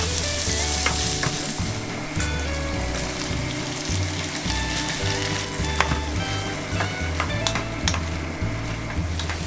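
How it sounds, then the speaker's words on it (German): Bacon and paprika sausage sizzle and crackle steadily in a hot pan, with occasional clinks and a low hum underneath and no talking. "Bacon und Paprikawurst jetzt auch richtig anbraten."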